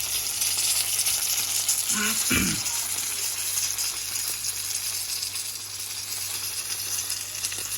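Crucian carp fry in a pan with a steady, dense hiss and crackle of hot oil that runs the whole time, plus a brief clunk of the pan or utensil partway through.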